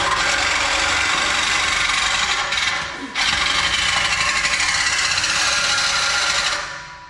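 A power tool cutting through a Mustang's active exhaust pipe during an axle-back install, a loud continuous grinding rasp that holds steady, dips briefly, then resumes before fading out.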